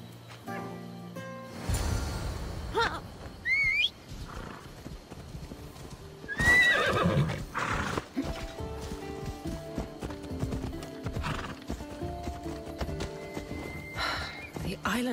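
Horse hooves clip-clop steadily during a ride in an island setting, with occasional whinnies and snorts, heard under people talking nearby throughout.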